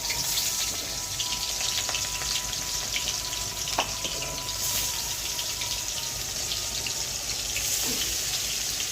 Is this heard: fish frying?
yes